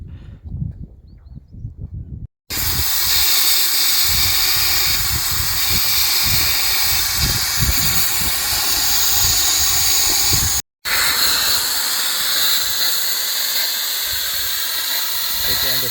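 Loud, steady air hissing from a Fuso truck's tyre being let down for desert sand driving, running almost continuously with two brief cutoffs and some clatter underneath.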